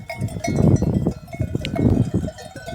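A flock of sheep grazes at pasture around sunset, with scattered bleats, bells clanking and shuffling movement close by, and no talk.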